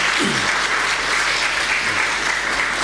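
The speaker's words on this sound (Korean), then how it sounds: "우리 다시 한번 우리 마라나타 찬양팀을 위해서 박수 한번 보내주시기 바랍니다" Loud, dense applause from a church congregation for the Maranatha worship team, a continuous wash of clapping filling the whole moment without speech.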